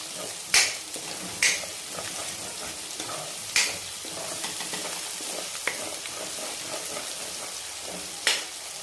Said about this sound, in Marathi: ह्याला पण आपण तेलामध्ये तळून घ्यायचं आहे